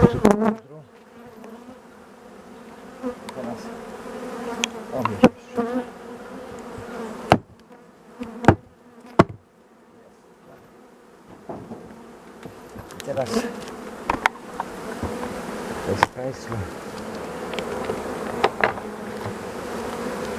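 A dense, steady drone of many honey bees buzzing up close, with occasional sharp knocks and clicks breaking through.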